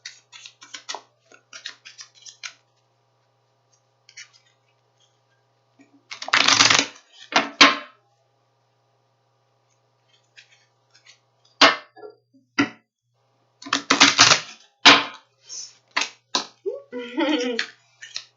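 A deck of oracle cards being shuffled in bursts of riffling and flicking, with a few cards falling out onto a surface; short clustered rustles separated by quiet gaps, close and fairly soft, no talking.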